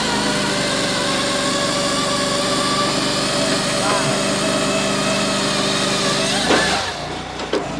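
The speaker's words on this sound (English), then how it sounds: "now this does all the work. It'll clamp down and it'll cut it." A firewood processor runs steadily as it clamps and saws an oak log, its engine droning loud and constant before the tone shifts near the end as the cut finishes.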